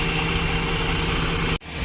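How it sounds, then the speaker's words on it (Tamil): Rear-mounted engine of a Volvo bus idling, a steady low droning hum with a constant tone, loud and close, cutting off abruptly near the end before quietly returning. "Volvo பஸ்ஸோட rare engine சவுண்டுங்க"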